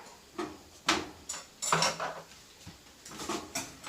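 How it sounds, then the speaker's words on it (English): Brown sugar is whisked into melted butter for s'mores bars, with irregular metal clinks and scrapes of a whisk against the bowl, close and moderately loud, no talking. "we're going to whisk in brown sugar"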